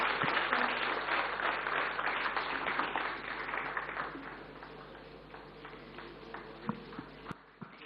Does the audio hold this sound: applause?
yes